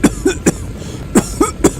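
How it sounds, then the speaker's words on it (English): Several sharp coughs in quick bursts from the video game Mafia: The Old Country, close and fairly loud, with a short pause before another cluster of coughs. "It's just like that coughing sound."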